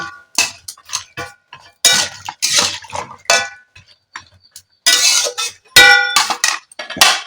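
Flat beans seasoned with turmeric and salt are stirred in a pan, giving repeated metallic clangs and scrapes of a spoon against the pan in uneven bursts, fairly loud and close, with no one speaking.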